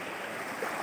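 An upstream mountain river rushes over large boulders in a narrow channel, giving a steady, close wash of flowing water with no voices.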